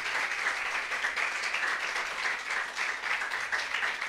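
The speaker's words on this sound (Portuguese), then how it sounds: "Bate palma, igreja. Só palmas, só palmas." Church congregation claps hands together in a dense, sustained round of applause with a subtle pulsing rhythm, filling the room loudly and evenly with no talk over it.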